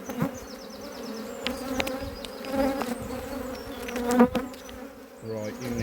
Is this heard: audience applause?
no